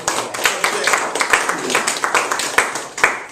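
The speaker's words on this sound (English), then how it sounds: "clap, give yourselves a hand" Scattered hand claps from a crowd, uneven and fairly loud, running steadily for a few seconds.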